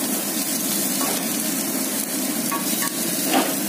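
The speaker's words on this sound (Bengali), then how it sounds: "এবার সেই তেলের মধ্যে পেঁয়াজ কুচিগুলোকে ছেড়ে দিলাম" Chopped onions sizzle in hot oil in a wok, a steady dense frying hiss with faint stirring clicks, close and continuous throughout.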